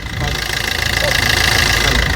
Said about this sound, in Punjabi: ਗੱਲ ਕਲੀਅਰ ਕਰਨੀ ਇੰਜਨ ਦੀ ਸਾਊਂਡ ਹੈ